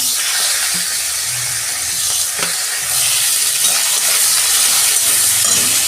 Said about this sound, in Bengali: এই যে পেঁয়াজ দিয়ে দিচ্ছি।